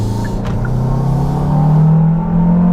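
A Kia Carnival minivan's engine pulls steadily under acceleration on the road, a continuous close-up drone that swells in loudness partway through and holds.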